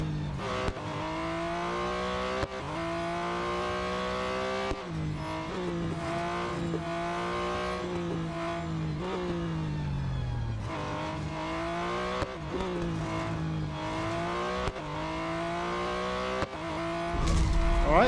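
A race car engine in the Real Racing 3 video game revs hard through an autocross run, climbing in pitch and dropping sharply at each gear change, loud and close the whole way.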